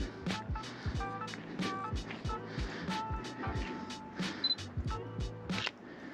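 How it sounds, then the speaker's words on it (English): A Sony A7C II mirrorless camera fires its shutter repeatedly during street photography, a series of sharp close clicks in quick irregular bursts over quiet outdoor background. "Love the sound of the shutter."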